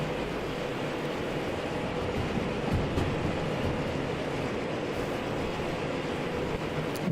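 S282 steam locomotive climbing a hill in Derail Valley, a steady low rumbling roar with faint rhythmic chuffing under a broad wash of noise, continuous and fairly loud throughout, no talking.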